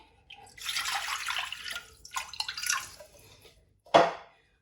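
Water poured into a cooking pot while making a recipe, a short splashing trickle with gaps, then a brief sharper splash near the end, faint and close, with no talk.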